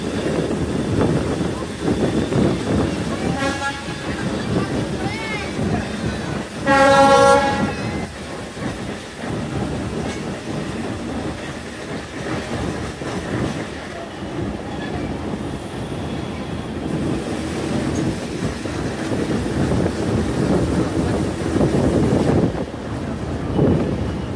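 Riding a Bhanga commuter train moving out along a new line from Dhaka's platform 9, there is a continuous rumble and clickety-clack of wheels with wind buffeting, a sharp squeal partway through, and a voice talking over it.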